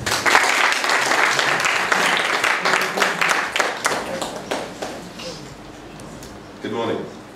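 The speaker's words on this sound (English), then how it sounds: "Please give a round of applause." Audience applause for speaker Mark Davies at a software developers congress, loud clapping that gradually thins and fades out, with a voice briefly coming in near the end.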